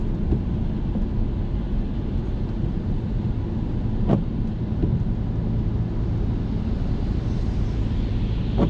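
A car accelerating during a driving lesson, heard from inside as a steady low engine rumble and road roar that stays even throughout, with a single faint click near the middle.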